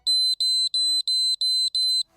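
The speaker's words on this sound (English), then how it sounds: "Just a tap on our phone triggers the key tracker's loud alarm" A GlocalMe key tracker sounds its loud alarm: six rapid, shrill electronic beeps in an even rhythm, each about a quarter second long, close and alone with no other sound.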